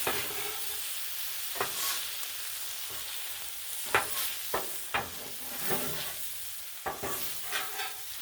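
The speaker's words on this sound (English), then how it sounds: "Do some stirring, and mixing, and blending." Chicken tortellini pasta being stirred and mixed with a utensil on a hot Blackstone griddle, with a steady frying sizzle under scattered sharp scrapes and clacks of the tool against the flat top.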